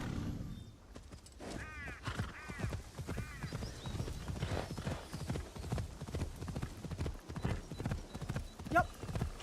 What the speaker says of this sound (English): another horse race.